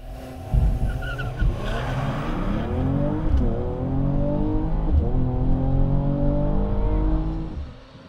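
Street-legal car launching off the line at a drag strip during a Friday night street-legal event, engine revving hard and climbing through rising harmonics with gear shifts, loud and close, then fading as it pulls away.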